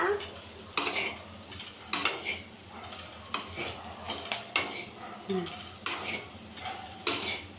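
A spoon scrapes and stirs spice powder in a hot pan over the gas, making rhythmic metallic scraping strokes roughly every half second over a faint sizzle, close up and fairly loud.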